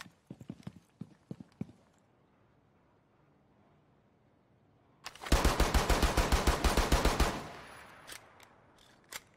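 Rapid bursts of automatic gunfire from the video game Rainbow Six Siege, a loud dense volley lasting a couple of seconds after a few scattered single shots, with more isolated shots trailing off.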